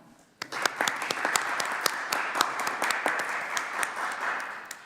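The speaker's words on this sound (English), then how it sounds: "can we just have a round of applause for Clive, who is leaving the authority to retire?" A small committee gives a round of applause for a retiring member of the authority: sharp, distinct individual claps starting abruptly after a quiet moment, then steady, close and moderately loud until the end.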